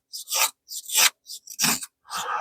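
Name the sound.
knife feather-sticking dry pine wood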